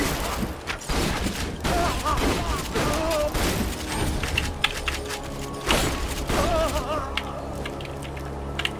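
Automatic turret gunfire in Borderlands 2 rattles in steady bursts with mechanical thumps and booms, loud and sustained throughout, while players talk over it.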